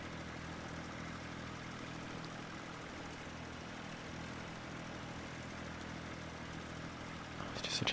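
Tractor in Farming Simulator 19 runs with a steady low engine drone, a continuous even hum at moderate level with no talk, swelling slightly at the very end.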